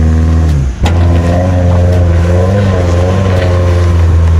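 A vehicle engine catches after a brief stumble and then runs on loudly and steadily close by, settling into an even, droning idle.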